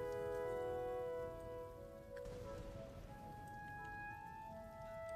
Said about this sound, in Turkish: Bu nasıl bir yağmurdur hocam ya?